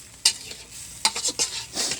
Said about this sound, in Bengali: হালকাভাবে একটু কষায় নিব 10 মিনিট ধরে।